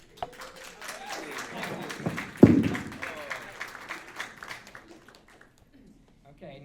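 An audience at a graphic design lecture claps, a modest, uneven patter that swells briefly and then tapers off, with a voice talking over part of it.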